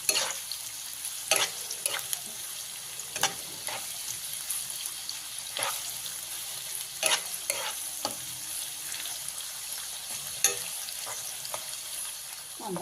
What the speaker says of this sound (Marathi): तर आपण कांदा चांगला भाजून घेऊया. कांदा चांगला मऊ झाला पाहिजे.